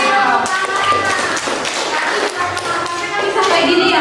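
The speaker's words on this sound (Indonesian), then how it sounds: "Sudah? Beri tepuk tangan." A group claps together during a dance class, a steady, dense patter of hands that stays loud throughout, with a voice talking over the applause.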